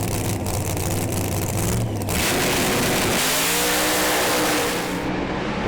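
Holden Monaro doorslammer drag car launching from the line at Calder Park Raceway, a loud sustained engine roar building as it rockets away down the strip, with no voices over it.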